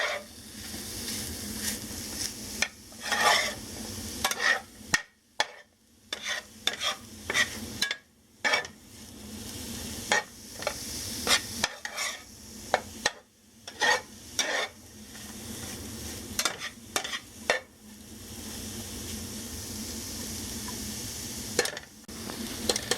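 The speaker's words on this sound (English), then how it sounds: "You can start to hear it sizzle a little bit." Ground beef sizzles steadily in a hot pan while a utensil scrapes and stirs it in repeated strokes, with brief pauses between bursts of activity.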